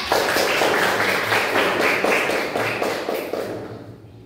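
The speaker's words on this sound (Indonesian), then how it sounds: "Tepuk tangan untuk Ganjar." A classroom of students claps for a classmate with quick, steady, fairly loud rhythmic clapping that fades out toward the end, and no one speaks.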